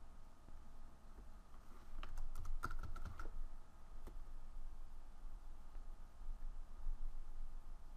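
Steady close clicking of keys on a computer keyboard as a text pattern is entered, with a denser burst of keystrokes in the middle over faint background hiss.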